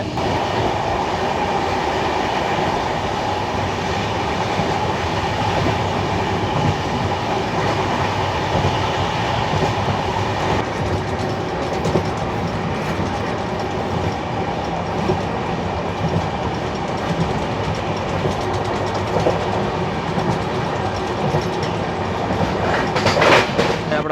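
A train runs on the double-track railway between Rajkot and Kanalus with a loud, continuous rumble and rhythmic clickety-clack of wheels, close by and steady, with a brief squeal near the end.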